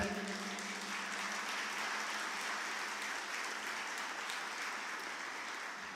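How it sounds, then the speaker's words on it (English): Audience applause at a space university opening ceremony, a steady, somewhat distant wash of many hands clapping that holds for several seconds at moderate level without speech. "We need a big clap."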